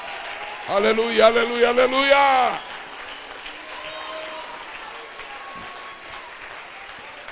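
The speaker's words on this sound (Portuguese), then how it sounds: "Fique de pé para aplaudir esse rei Jesus." A church congregation stands and claps for Jesus, a steady wash of applause continuing under and after a voice singing out loudly near the start.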